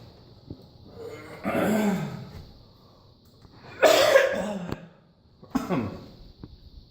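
Someone coughs in a few harsh, throaty bursts spaced across a quiet room, each cough close and loud, between stretches of near silence.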